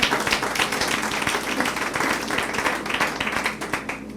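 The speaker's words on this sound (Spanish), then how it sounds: "Den un aplauso al Señor." A church congregation claps in a dense, continuous burst of applause, close and lively, with no voices standing out above the clapping.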